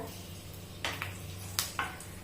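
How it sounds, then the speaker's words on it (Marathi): Cut green chilies stirred in hot oil in a pan, a faint sizzle under several sharp clinks and scrapes of a spoon against the pan. "आता आपण हे मिरच्या थोड्याशा आहे ना परतवून घ्यायच्या"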